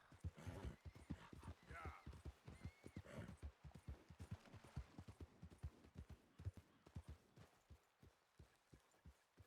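A horse in Red Dead Redemption 2 clip-clops along in a steady, even rhythm of hoofbeats at close range, with faint voices underneath.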